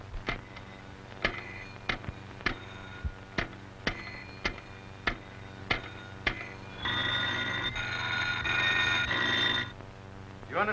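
A bell strikes repeatedly in a steady rhythm over a low hum, followed by a sustained ringing bell tone lasting a few seconds.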